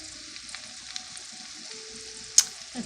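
A cheesy potato spinach bake sizzles quietly in a cast iron pan, giving a soft, steady hiss with faint crackles and one brief sharp click near the end.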